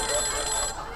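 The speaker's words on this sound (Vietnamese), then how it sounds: "Thời buổi giờ điện thoại để cái chuông giống như hồi xưa." An old-fashioned telephone bell ringtone on a mobile phone, a rapid, bright metallic trill ringing loudly and continuously for about a second, close by.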